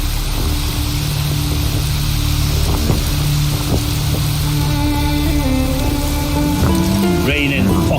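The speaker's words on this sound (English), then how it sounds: "Raining fucking buckets." Heavy rain pours steadily in the video game Witcher 3, a dense, loud hiss that runs the whole way through while voice-like tones rise over it toward the end.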